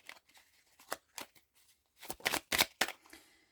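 Cards shuffled for a card reading make soft, close riffling and tapping bursts, sparse at first and then bunching into a quick flurry of crisp snaps before fading.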